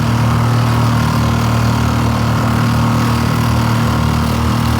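A Pelican Catch PWR100 boat's motor running steadily at full throttle at about 4.5 knots, a loud, continuous droning hum close by with no talking.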